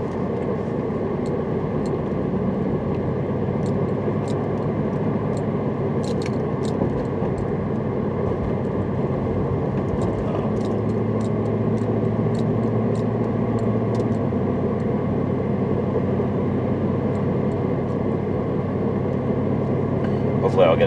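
Engine of a 1998 Jeep Grand Cherokee with a 5.2-liter V8 droning steadily at cruising speed, a low, moderate rumble with road noise.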